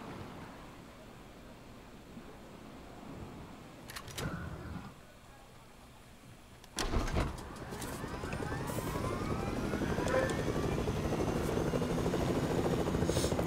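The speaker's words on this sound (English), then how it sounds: "Oh, wait, the helicopter is there." A helicopter's rotor and engine drone in the video game Fortnite swells and grows louder over the course of the clip, with a couple of sharp bangs partway through.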